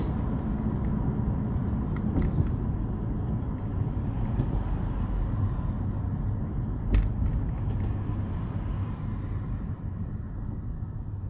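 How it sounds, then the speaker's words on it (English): Morning rush-hour car traffic rolls along FDR Drive in New York, a continuous loud low rumble of engines and tires with a couple of brief sharper swells, no voices. "So we're already hitting traffic."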